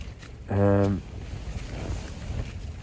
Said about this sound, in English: Wind's up now, but I'm hoping that wind drops at some point.